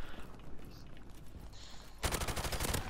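Faint scattered shots from the video game Call of Duty Modern Warfare Remastered, then a sudden loud burst of rapid G36 rifle fire takes over for the final second, fast and continuous.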